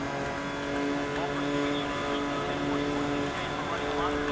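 A car racing flat out in the 2012 video game Need for Speed: Most Wanted, its engine a steady, loud droning hum that holds evenly without pause from start to finish.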